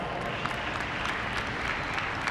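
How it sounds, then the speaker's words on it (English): Conference audience at a Bitcoin event in Las Vegas applauding, a dense, loud, continuous wash of many clapping hands filling a large hall. "So let's give David Bailey a big round of applause here."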